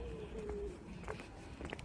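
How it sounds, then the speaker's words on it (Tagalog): A pigeon or dove coos faintly at a distance, a soft low call over quiet outdoor background with light movement sounds. "maririnig mo na yung ibon"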